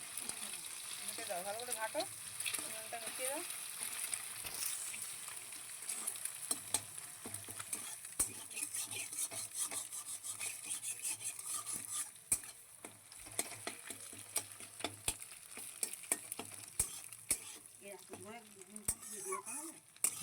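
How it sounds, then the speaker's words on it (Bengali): Boiled eggs with salt being stirred and fried into a bhujia in a pan, a steady sizzle with repeated scraping and stirring clicks throughout, with a voice speaking now and then over it. "ভালো করে ভুজিয়া করে নেবো, নাড়াচাড়া করে।"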